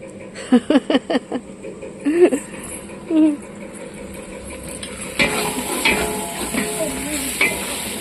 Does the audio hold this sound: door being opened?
no